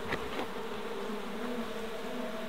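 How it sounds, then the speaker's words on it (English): Honey bees buzz during a swarm rescue from an orange tree, a soft sustained drone with a few individual bees passing close at the start, fairly faint and without talk. "we've got a few bees left in here"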